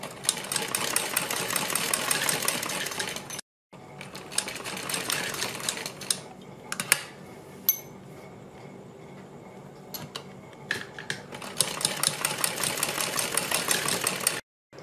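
Sewing machine stitching along a folded fabric neckline, running in long steady bursts separated by short pauses and stops, close and fairly loud with no voices.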